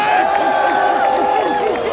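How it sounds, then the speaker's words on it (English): Crowd at an outdoor political rally roaring and cheering loudly and continuously, with voices shouting within the dense noise. "Another big cheer"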